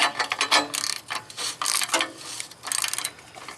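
Ratcheting mechanical clicks in several bursts as a downstream O2 sensor is tightened on a Pontiac G8 3.6 V6, close and fairly loud with short pauses between runs, no talking.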